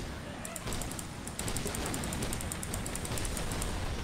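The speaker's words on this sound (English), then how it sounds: "Are those explosions you guys?" Dense, rumbling bursts of explosions and gunfire from the zombie shooter game Left 4 Dead 2 roll on continuously at a moderate distance, forming a noisy, chaotic battle din.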